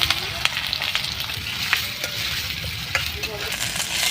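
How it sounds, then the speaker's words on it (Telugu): Spice masala with curry leaves and green chilli paste fries in a pan for dried fish biryani, a steady close sizzle broken by occasional metallic clinks of stirring. "ఇదిగోండి మసాలా అయితే వేగిపోయింది"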